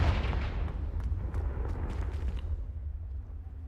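A Confringo spell explosion in the video game Hogwarts Legacy lands as a loud, booming blast with a rumbling low roar that fades out over a few seconds, with no talking.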